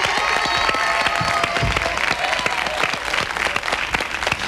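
Studio audience cheers and applauds with many sharp individual claps standing out in a busy, sustained roar that holds steady before thinning slightly near the end.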